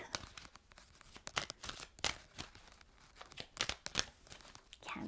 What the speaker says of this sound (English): Let's shuffle the cards.